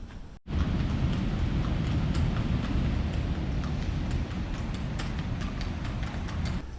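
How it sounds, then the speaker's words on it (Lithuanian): Steady rain pours down outdoors in a town, a dense, loud, continuous hiss with scattered sharper drops and a low rumbling undertone, with no voices. "lietus lyja"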